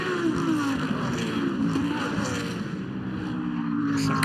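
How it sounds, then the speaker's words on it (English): GT Masters race cars growl past at Zandvoort, their engines rising and falling in pitch as they come over the curbing, loud and continuous with overlapping passes. "you hear the growl of the individual cars coming through"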